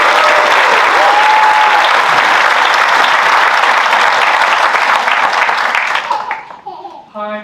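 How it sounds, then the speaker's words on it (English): Loud, dense applause from the audience at a medical school white coat ceremony for the class of 2027. It runs as a full roar, then thins out, and a voice comes in at the end. "let's begin by taking a moment to give a warm round of applause to the incredible class"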